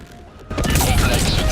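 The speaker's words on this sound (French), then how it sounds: "Il fallait que tu fasses exploser le truc à côté de moi" A large explosion in Helldivers 2 bursts in suddenly after a quieter moment, then continues as a loud, dense roar of blast and debris.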